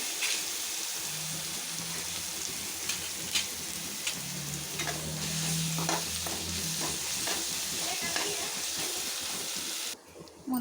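Freshly chopped ginger-garlic paste sautés in a pan, a steady close hiss with light scraping stirs and a faint hum in the background, cutting off abruptly near the end.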